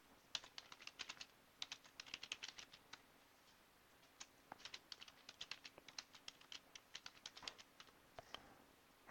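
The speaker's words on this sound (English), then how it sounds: "And I have to type it again." Fingers typing a password on a computer keyboard during an Ubuntu 16.04 setup, quiet clusters of quick key clicks with short pauses between bursts.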